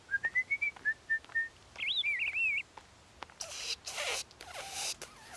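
A child whistles short, rising notes in a steady run, then a warbling trill, trying to call to birds; brief rustling and scraping noises follow close by, with no talking.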